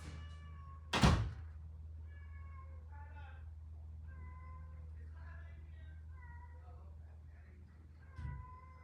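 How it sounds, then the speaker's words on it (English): A cat meows outdoors in a series of short, mid-pitched cries spread over several seconds, following a loud thump near the start, with a faint low hum underneath and another soft knock near the end. "Somebody kitty is out here crying."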